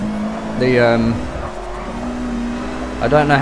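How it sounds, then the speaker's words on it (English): Engine of a Ferrari race car in Forza 6 Apex roars, then drops pitch under braking into a corner and picks up again, with a voice talking over the game sound. "We've got the Ferrari here braking very early and still going deep into the corner."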